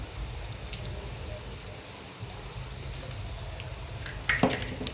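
Peanuts fry in hot oil for sushila poha, a soft steady sizzle close by with light scattered crackles, ending in a louder clatter near the close; no voices.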